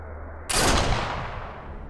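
One loud, close rifle shot from Sniper Elite VR cracks after a near-silent moment, then rolls into a long fading echo.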